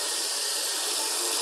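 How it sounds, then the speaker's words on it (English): Warm water runs from a tap in a steady, loud, even gush during cyanotype print processing, with no talk. "I want to use a little bit of warm water"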